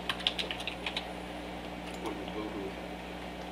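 Typing on a computer keyboard during a lecture on modelling a bottle assembly: a quick burst of light clicks in the first second, then sparse faint taps over steady room hum.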